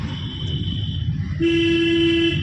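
A car horn blares in one long, steady honk partway through, over the low rumble of traffic and an engine.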